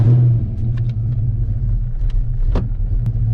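A Ford Fox-body car engine with SVE 170cc aluminum heads, B303 cam, aftermarket exhaust, stock intake and injectors idles with a deep, close rumble, with a brief louder burst at the start and a steady throb after.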